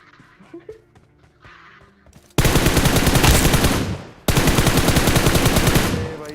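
Automatic gunfire in the mobile battle royale game BGMI: quiet game ambience, then two loud, sustained bursts of rapid shots separated by a brief gap.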